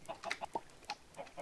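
Chickens in the ParaCraft block-building game cluck in a quick run of short, bright bursts, several calls spaced irregularly over a second and a half, moderately close with no talking.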